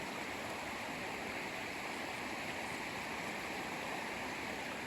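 Water rushing through a drainage outlet in a steady, unbroken broadband wash that holds at an even level throughout, with no voices.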